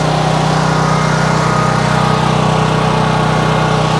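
A portable generator drones loudly and steadily, close by, with a constant engine hum that cuts off abruptly at the very end.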